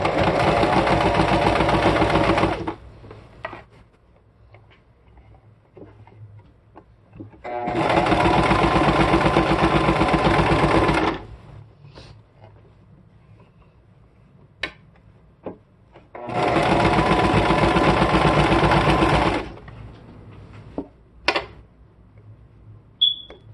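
Sewing machine stitching tutu socks runs in three loud, steady bursts of a few seconds each, separated by quiet gaps with small clicks and handling noises.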